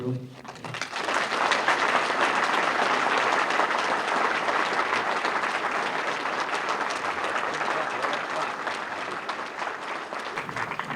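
Loud, sustained applause from a large audience at a racing Hall of Fame ceremony, rising quickly after a brief voice and holding steady for several seconds before tapering slightly.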